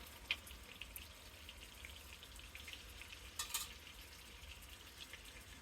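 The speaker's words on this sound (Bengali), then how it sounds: "দুই পাশটা ভেজে আমি নামিয়ে নেব, বাকি পিসগুলো আমি এইভাবে ভেজে নেব।" Pieces of aair fish frying in hot oil in a pan give a soft, steady sizzle and crackle with a few brief spatters, faint and unbroken, with no voices.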